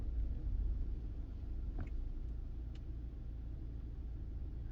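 BMW engine idling at a stop sign with auto start-stop disabled, a faint steady low hum and rumble from inside the car with a couple of small clicks, no talk.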